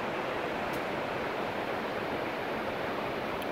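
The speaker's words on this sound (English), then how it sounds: "You can hear the water." Water rushes steadily at Plitvice Lakes in winter, a dense, continuous roar like a nearby cascade filling the whole scene without pause or talk.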